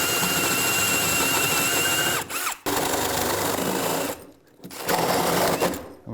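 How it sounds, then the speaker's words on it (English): A power drill spins a 1¼ inch bit through wood rafters in an attic, a loud continuous whirring grind that stops briefly twice before starting up again, close by. "Now I can use an 1¼ inch bit, drill these holes."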